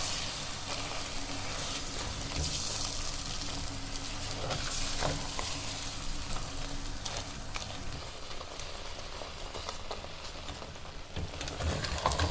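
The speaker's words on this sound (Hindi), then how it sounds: "स्टिल अभी इसको मिक्स कर रहे हैं, हल्की आंच पे इसको पकाना है।" Starch halwa with melting sugar is stirred in a pan over low heat, giving a steady sizzling, scraping texture with uneven bursts throughout and no voices.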